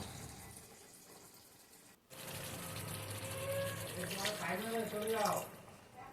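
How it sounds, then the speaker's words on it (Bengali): Water poured into a pan of katla fish kalia with black cumin paste. After a brief gap, a soft, continuous splashing pour comes in under a person talking, fairly quiet and close. "এবার আমি একটু জল দিয়ে আবার ঢেকে দেবো"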